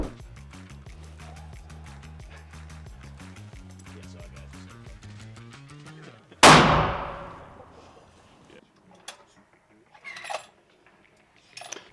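A single loud big-bore centerfire rifle shot with SIG SAUER gear rings out midway, a sharp blast decaying into echo, preceded by a steady tonal hum and followed by a few faint clanks.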